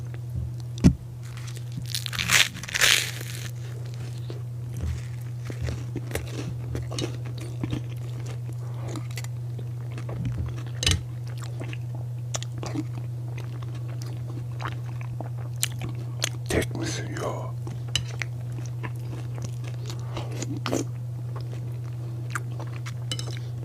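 Close, continuous chewing and crunching of food while eating, with repeated bites and soft tearing sounds over a steady low hum.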